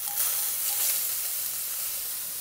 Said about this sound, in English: Add in 1 thumb size of ginger,